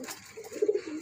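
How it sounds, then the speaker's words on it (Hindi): A lace-patterned Teddy pigeon in a breeding setup gives one short, close, throaty coo that swells in the second half of a brief moment. "ये देखो कबूतर कौन सा है"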